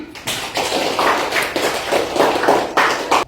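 Classroom applause from a group of students, loud uneven clapping in short surging waves that carries on for several seconds before stopping abruptly.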